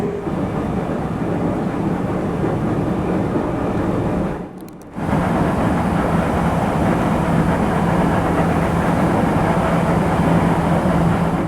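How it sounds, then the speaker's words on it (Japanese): JR West rapid train bound for Kyoto running, heard from on board as a steady loud broadband rumble with a low hum, briefly dipping quieter mid-way as if passing through a gap or structure before the roar resumes. "この電車は快速京都行きです"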